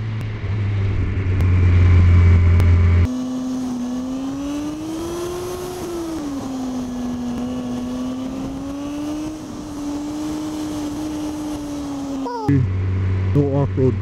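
A car engine pulls steadily up Waimea Canyon Road, its drone rising and falling gently as it accelerates, loud and close, with rumbling wind and road noise at the start and end.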